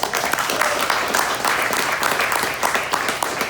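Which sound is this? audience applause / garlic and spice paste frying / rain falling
audience applause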